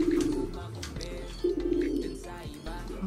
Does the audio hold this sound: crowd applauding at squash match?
no